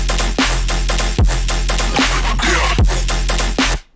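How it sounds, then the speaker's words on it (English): A Rave Stab synth patch under heavy sidechain pumps against a thumping kick, with dense, loud stabs ducking in a steady four-beat rhythm before cutting off. "the main patch is just like Rave Stab from my sample pack"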